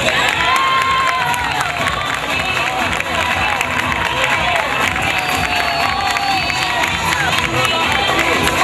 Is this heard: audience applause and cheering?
yes